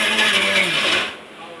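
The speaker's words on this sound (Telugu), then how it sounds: "ఇప్పుడు మా అక్క మిక్సీ కడుతుంది" A mixer grinder whirs loudly as it blends a chocolate milkshake. The close motor drone runs briefly, then cuts off and fades to a quiet hum.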